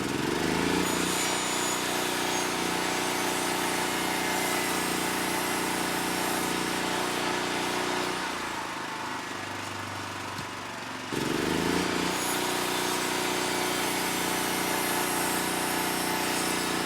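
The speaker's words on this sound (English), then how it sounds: "I'm going to plug my miter saw into it. We'll see how loud it gets" A miter saw whines loudly and continuously, then briefly spins down and drops to a lower rumble before roaring back to full speed, close by with no talking.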